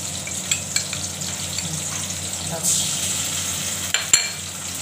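Tomato and ginger paste frying in a pan for chhole, a steady close sizzle with occasional clinks and scrapes of a spoon stirring, no talking.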